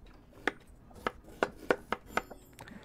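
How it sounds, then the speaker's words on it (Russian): Tomato being chopped on a board in the cooking game Chef Life: A Restaurant Simulator, about seven crisp knife chops in an uneven rhythm, close and alone with no voices. "Я хотел нарезать помидорку."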